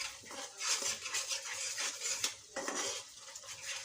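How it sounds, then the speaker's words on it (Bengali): A spoon scrapes and clanks against a pan while rida fish curry with spices is stir-fried, close and busy, with a soft sizzle beneath the repeated metallic stirring strokes. "এখন দিয়ে এটাকে কষিয়ে দিচ্ছি আবার।"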